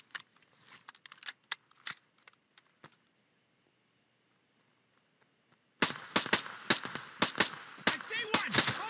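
Bursts of video game gunfire in a battle against AI soldiers, sharp cracks scattered at first, a quiet pause, then a dense, loud volley of rapid overlapping shots.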